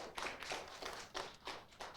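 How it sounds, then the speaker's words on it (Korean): A congregation claps at a Sunday church service in a faint, slow, regular rhythm, about seven distinct claps spread over two seconds, soft and somewhat distant. "우리 박수하고요"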